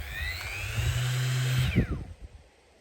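A brushless 150 mm orbital sander with a 5 mm orbit runs close at a high whine, then spins down with a falling pitch as it stops, leaving quiet clicks.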